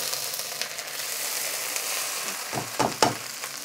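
Ginger paste frying in oil with bay leaf, cloves and cinnamon for Bengali pulao, a steady close sizzle with a few sharper crackles and stirring scrapes toward the end.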